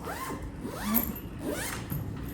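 A zipper runs along the single main compartment of a carry-on suitcase in three steady pulls, close and clear with nothing else over it.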